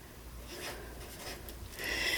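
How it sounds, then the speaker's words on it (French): A number being written by hand with a pen, a soft, close scratching that rises and falls in a few short strokes and grows a little busier toward the end, heard alone with no talk. "Je vais quand même écrire le numéro là."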